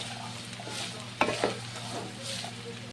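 Chicken and vegetables for fried rice stir-fry in a hot pan, a continuous sizzle with a sharp scrape and clatter of the spatula near the middle.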